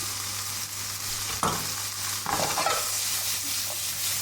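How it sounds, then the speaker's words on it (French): Mushrooms with garlic fry in a pan with a constant sizzle, and a utensil scrapes and stirs through them in two or three short strokes close by. "Une petite poêlée de champignons qu'on va réserver."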